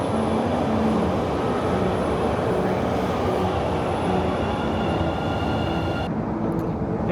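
A subway train rumbles steadily throughout, a loud continuous roar with faint tonal squeals, heard from on board or close by.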